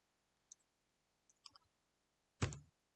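Computer mouse buttons click in Excel at close range against near silence: a single light tick, then a small cluster of quick clicks, and a sharper, louder click near the end.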